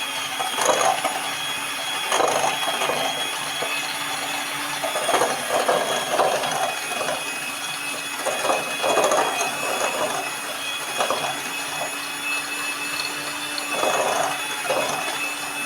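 Butter and sugar being beaten together for a dates cake, a continuous whirring, grinding mechanical churn with a steady hum and rhythmic scraping pulses, fairly loud and close.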